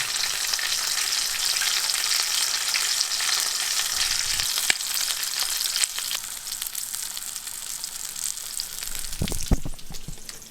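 A New York strip steak sears in a pan with garlic, a dense, loud, continuous sizzle with occasional spits and faint clinks near the end; no talking.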